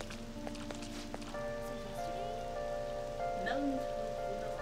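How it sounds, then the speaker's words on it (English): Steady rain falls in the video game Persona 5 Royal, a soft continuous patter under sustained background music tones, with no talk. "I feel so down when it's raining."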